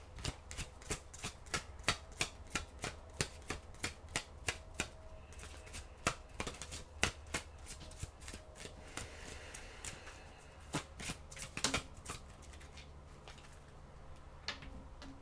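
Oracle cards being shuffled by hand, a steady run of crisp riffling clicks and soft slaps close up for about twelve seconds, thinning toward the end with no talking.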